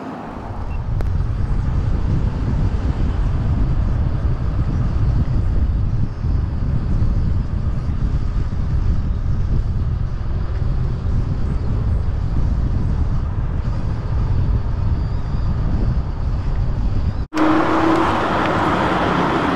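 Steady, loud road traffic rush and engine noise heard from an Emove Roadrunner electric scooter ridden on a road, with wind buffeting the microphone throughout and a brief cut near the end.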